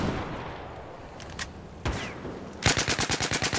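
Scattered shots crack in an Xbox One shooter video game, then a loud, rapid machine-gun burst of about a dozen evenly spaced rounds hammers close by at the end.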